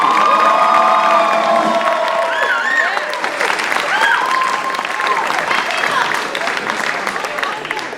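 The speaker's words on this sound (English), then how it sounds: "Please give a round of applause to these seniors." Audience at a high school jazz ensemble concert applauding the graduating seniors, loud sustained clapping mixed with cheers and whoops from a crowd, including higher shouting voices.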